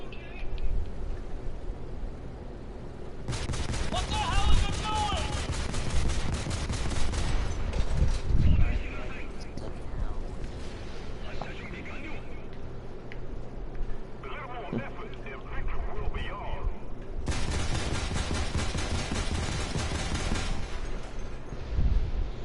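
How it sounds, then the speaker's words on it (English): Dense bursts of automatic gunfire from a Type 74G in a shooter video game, loud and rapid, come in two long volleys amid continuous battle noise and scattered shots, with a voice occasionally talking over it. "I like how I'm shooting this guy, and I'm literally not hitting him"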